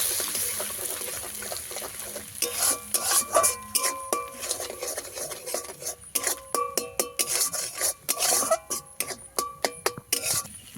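Egg being beaten with salt, a rapid, rhythmic clatter of utensil against bowl in close bursts, loud and continuous with short pauses, no talking.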